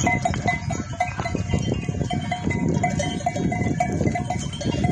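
A flock of sheep and goats on a mountain in the rain bleats on and off, with clanking bells and trampling, nearby and continuous without talking.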